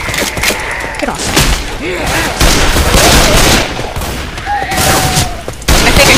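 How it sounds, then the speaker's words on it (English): Rapid bursts of gunfire ring out continuously while shooting zombies in a Left 4 Dead–style game, heavy thuds and booms mixed in, with a sharp whistling tone and chatter buried in the din. "I'm shooting zombies"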